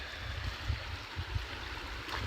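Flowing water of the Swift River's East Branch, a steady low rushing with soft gurgles, fairly quiet and continuous with no voices.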